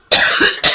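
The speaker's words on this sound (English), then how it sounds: "I'm so sorry about this cough." Two sharp coughs from one person with a lingering cough, close by, the first longer and rougher, the second a quick burst after a brief pause.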